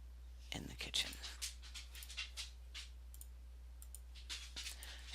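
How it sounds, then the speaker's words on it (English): A dog scrambles around a kitchen chasing her tail, giving rapid clicking claw taps on the floor and soft panting, fairly faint and irregular over a steady low hum. "you can hear my dog being an idiot in the background"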